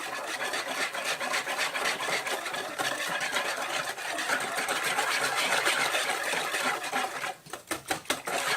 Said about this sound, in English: And I'm going to whisk all of this together.